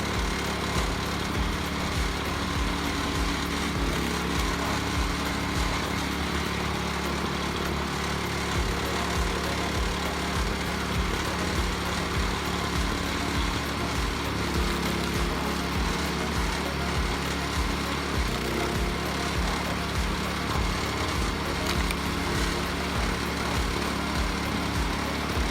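A homemade hydraulic firewood log splitter runs continuously, its small engine droning steadily with a faint regular low thumping pulse throughout and no talk.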